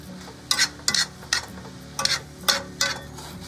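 Brown rice with soy sauce is stirred in a frying pan with six distinct scraping strokes in an irregular rhythm over a low, steady sizzle, close and clear with no talk.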